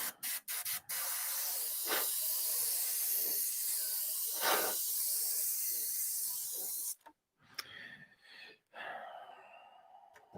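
An aerosol can sprays paint onto an RC10T6.1 RC car body in long continuous hissing bursts, close by, with brief pauses and clicks of the can between passes and no speech.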